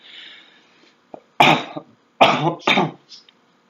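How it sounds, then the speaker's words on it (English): Several harsh coughs in a row, close by, with a brief throat-clearing sound before them and quiet breathing at the start. "Sorry about the coughing."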